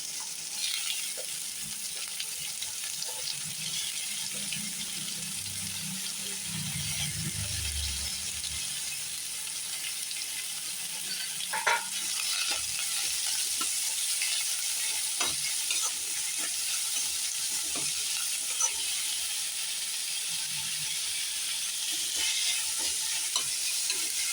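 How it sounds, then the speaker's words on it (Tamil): Two chopped large onions fry in a pan with spices for mushroom chukka. A steady, fairly soft sizzle continues throughout, with scattered small clicks and scrapes from stirring. "இதிலே நம்ம பெரிய வெங்காயம் 2 கட் பண்ணி வச்சுருக்கோம்லே, அதையும் போட்டுடலாம்."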